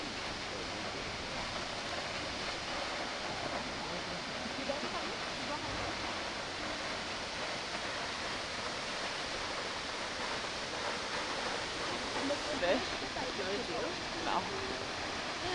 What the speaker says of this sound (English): Look at the top of that little waterfall on the left.